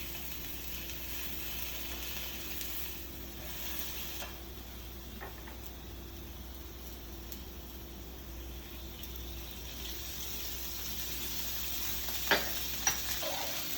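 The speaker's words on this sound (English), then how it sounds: "once the skin sticks to the pan, we're going to add a little bit more oil just to help it cook" Fish skin fries in an oiled pan on low heat, giving a steady, soft sizzle throughout with a couple of brief ticks near the end.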